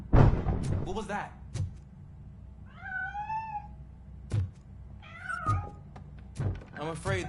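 A cat meows a few times in RoboCop: Rogue City, with rising, wavering cries against rhythmic thuds and game noise, close and clear, as someone talks at the start and end.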